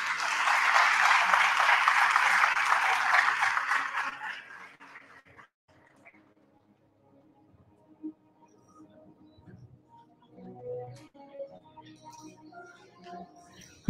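Loud, sustained audience applause at a school awards ceremony, lasting about four seconds before fading into quiet room noise with scattered small sounds.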